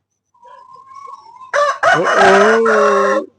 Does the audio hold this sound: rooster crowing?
yes